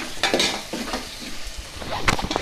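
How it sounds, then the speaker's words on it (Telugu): Onions frying in a pan for Rayalaseema chicken dum biryani, a close steady sizzle with intermittent stirring scrapes and clinks of utensils throughout. "ఇదిగోండి ఇలా వేగుతున్నాయి."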